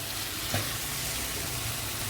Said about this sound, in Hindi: चम्मच चला देते हैं इसमें थोड़ा सा, ताकि मसाले मिक्स हो जाएं दाल के साथ